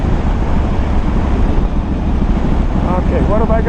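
Wind roars and buffets continuously while riding a 2013 Harley-Davidson Dyna Wide Glide, a loud rushing blast layered over the motorcycle's low engine rumble.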